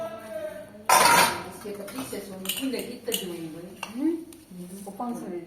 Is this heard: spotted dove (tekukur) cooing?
no